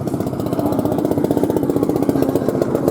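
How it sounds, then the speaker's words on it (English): Small rotary-engined car running at a classic car meet, a fast, buzzy, evenly pulsing idle with a throaty low rumble, close and steady throughout. "Because it's a rotary engine."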